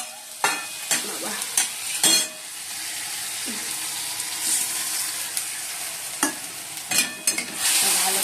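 Turmeric, Kashmiri chilli powder and other spices sauté in a pan with a little water, loud steady sizzling broken by repeated sharp stirring scrapes and clinks of a spatula.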